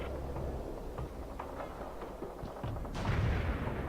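Gunfire at a target in the real-time strategy game World in Conflict, a muffled rumble of distant bursts and thuds over a dense battle din, swelling into a heavier, louder blast near the end.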